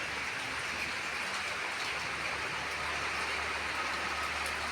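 Heavy rain pours down in Bhubaneswar as a dense, even hiss that holds steady throughout, a continuous wash with no breaks and no voices.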